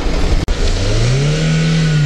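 Off-road car driving through dry sand, its engine revving loudly and climbing steadily in pitch as it strains forward, close and alone.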